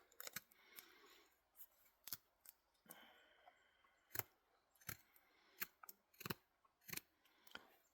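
A cheap knife scrapes and cuts across a carved wooden spoon to remove pencil lines, sharp irregular clicks and short shaving strokes, close and quiet, with no talking.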